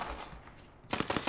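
Gunfire in the video game Borderlands 3: after a muffled stretch, a loud burst of rapid shots breaks in near the end, several sharp cracks in quick succession, close and prominent.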